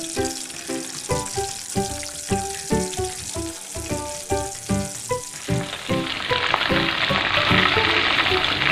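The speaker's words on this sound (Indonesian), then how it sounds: "Ini minyaknya sudah mulai panas, langsung aja kita goreng ayamnya." Chicken pieces go into hot oil in a wok for Indonesian-style butter fried chicken, a loud, steady sizzle with crackling that swells and turns to a dense, continuous hiss, while utensils knock rhythmically early on.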